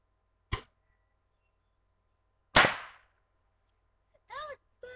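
A homemade airsoft rocket fires with a sharp whooshing burst, preceded by a brief earlier snap and followed near the end by short voiced bursts from a person.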